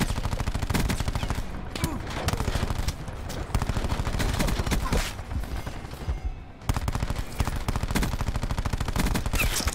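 Rapid, sustained gunfire in a free-for-all match of the game Call of Duty Black Ops 4, with dense machine-gun-like bursts nearly throughout, a brief dip around six seconds, then loud continuous shooting again.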